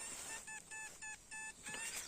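XP Deus metal detector sounding repeated pulsing tones over a copper belt fitting found while digging, four or five evenly spaced beeps, faint under a hissy background.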